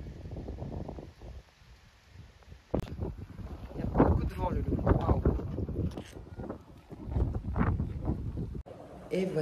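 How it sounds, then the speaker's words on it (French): Gusty outdoor wind rumbles and flutters against the microphone in uneven bursts, with someone talking over it in places. "Il y a beaucoup de vent aujourd'hui."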